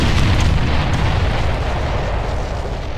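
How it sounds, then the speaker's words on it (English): An enemy hoverdyne blows up in the real-time strategy game Ground Control, a loud, dense rumbling explosion that fills the whole moment with steady low roar and no speech over it. "Enemy hoverdyne destroyed."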